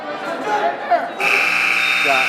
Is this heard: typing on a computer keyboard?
no